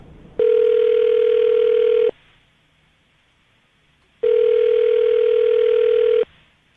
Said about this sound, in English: Dial the phone right now.